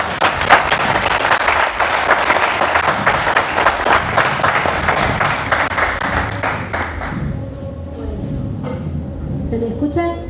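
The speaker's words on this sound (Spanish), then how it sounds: "Con un fuerte aplauso recibimos a Deborah." Loud, dense applause from a conference audience welcoming a speaker, sustained for several seconds before thinning into scattered claps as voices and room noise take over.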